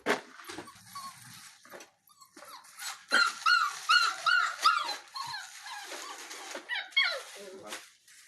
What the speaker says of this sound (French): On a notre chien méchant. Voilà,